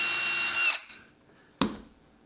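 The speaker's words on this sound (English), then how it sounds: "And I'm just going to drill in." A power drill bores a hole into a wooden cutting board, a loud steady whine for under a second, then stopping, followed by a short sharp knock.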